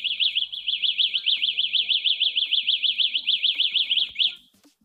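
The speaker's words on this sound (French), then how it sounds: "cette alarme a quelques boutons, par exemple ici le dernier, il vous permet de localiser votre scooter" A scooter alarm's remote locator signal on an electric scooter: a rapid, high-pitched warbling electronic chirp sounds steadily for about four seconds, loud and close, then cuts off, leaving faint background noise.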